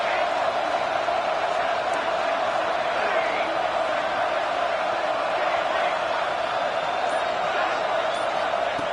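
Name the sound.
stadium crowd noise in College Football 26 video game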